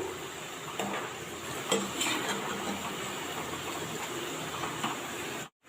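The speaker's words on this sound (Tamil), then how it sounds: "நம்ம போட்டப்போ உள்ள சலசலப்பை விட இப்போ சலசலப்பெல்லாம் கொஞ்சம் கம்மியாயிடுச்சு" Food deep-frying in hot oil, a steady, fairly quiet bubbling sizzle running without a break, with a few faint clinks over it before it cuts off abruptly near the end.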